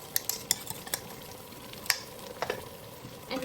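Biryani masala being stirred into tomatoes cooking in a pan, with scattered scraping and tapping strokes of a utensil over a soft, continuous sizzle, close by and free of talk.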